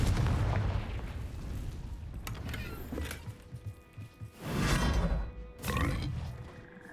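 Confringo fire spell in Hogwarts Legacy bursting into loud booming explosions with roaring rumble, one blast fading then a second pair of heavy bursts near the end.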